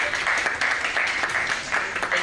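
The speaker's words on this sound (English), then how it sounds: "Let's give a round of applause for Nora." Audience at a student society candidates' election event applauding, a short burst of moderately loud clapping from a modest crowd, steady across the whole moment.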